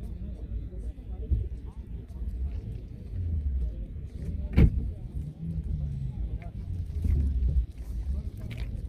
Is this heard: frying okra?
no